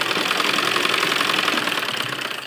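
A sewing machine runs a steady, continuous whirring double stitch along heavy-work suit fabric with lining, close up and alone, before slowing at the end.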